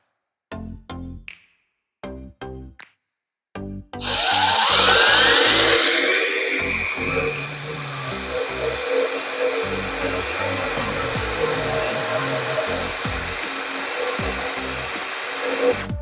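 A power drill bores a hole in a small e-bike frame: a few short, clipped trigger bursts, then one loud, sustained, close whine that rises in pitch and holds steady to the end.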